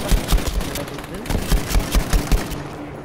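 Gunfire in the Battlefield V video game, with rapid bursts of automatic shots and loud booms, dense and continuous, mixed with other battle noise.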